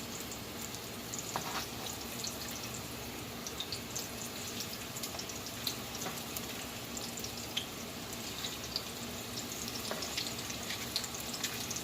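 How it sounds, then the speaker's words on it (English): Meatballs fry in a cast iron pan on the stove, making a soft, continuous sizzle with scattered small pops, faint and steady throughout. "I was always raised to cook them over the stove just like this in a cast iron pot or pan"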